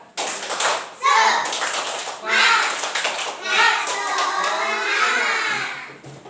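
A primary school class does a rhythmic spirit clapping routine. Bursts of patterned hand claps and taps alternate with children's voices chanting and talking, in a lively, close classroom.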